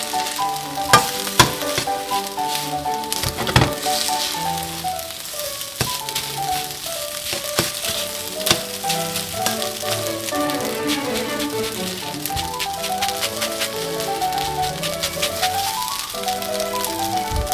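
Egg fried rice sizzles loudly in a hot wok, with a continuous crackling fry broken by repeated scraping knocks and rattles as the rice is pushed against the metal. No one speaks.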